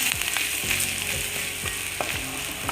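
Ingredients for a Kerala breadfruit stir-fry sizzle steadily in a hot pan, with repeated scraping strokes of a spoon stirring them at close range, no talk.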